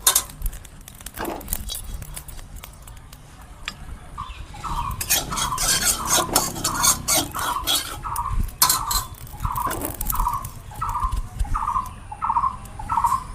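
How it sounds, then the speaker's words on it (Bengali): Whole cloves, cinnamon and cumin are lightly fried in hot oil in a village kitchen pan, with scraping and clinking of a stirring utensil throughout and a run of repeated short chirps near the end. "এই মশলাটা প্রথমে আমি করে নেব, হালকা ভেজে নেব"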